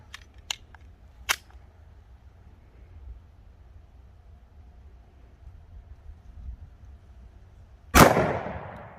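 A Glock 17 pistol fires a Corbon 115-grain 9mm round into ballistic gel from about 15 feet: a few faint clicks, then a single loud sharp report near the end that rings out briefly.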